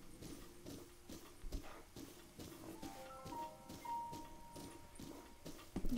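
Horse hooves clip-clopping in the video game Legend of Zelda Breath of the Wild, a steady rhythmic trot at moderate distance with brief chiming tones partway through, with no talk over it.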